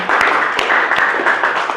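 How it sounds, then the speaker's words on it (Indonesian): A classroom of students gives a short round of applause for a classmate, dense overlapping claps close by, steady and lively for under two seconds. "Tepuk tangan dong buat keberanian Alisa."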